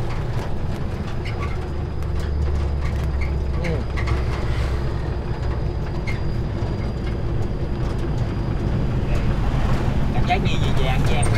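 Hot wind blowing outdoors along a road in Laos, a steady loud rushing roar with low buffeting across the whole stretch, like wind hitting a microphone.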